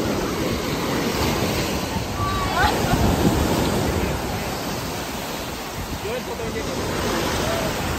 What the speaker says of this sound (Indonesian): ombaknya kencang sekali nih hari ini